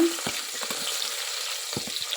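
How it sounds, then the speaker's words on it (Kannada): Onions sizzling as they fry in seven to eight spoons of hot oil inside a pressure cooker for veg pulao, a steady crackling hiss with a few soft stirring knocks, close and alone. "ಆಲ್ರೆಡಿ ಎಣ್ಣೆ ಹಾಕಿದ್ದೀನಿ ಒಂದು ಏಳರಿಂದ ಎಂಟು ಸ್ಪೂನಷ್ಟು ಎಣ್ಣೆ ಹಾಕಿದ್ದೀನಿ ಅದಕ್ಕೆ ಈಗ ಈರುಳ್ಳಿನ ಹಾಕೊಳ್ಳೋಣ"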